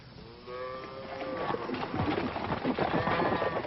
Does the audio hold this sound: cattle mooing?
yes